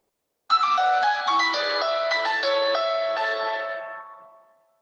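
A Nokia mobile phone ringtone plays its short melodic tune, a clear series of bright electronic notes that starts abruptly, runs for about four seconds and fades out, alone with no talk.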